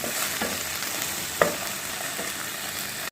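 Continuous close sizzle of okra frying in oil, with a brief clink of a utensil partway through and a sudden cut at the end.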